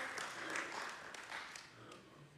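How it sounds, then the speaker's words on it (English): Church congregation giving a round of applause, a moderate, somewhat distant patter of many hands with light voices mixed in underneath. "Can we give that a round of applause?"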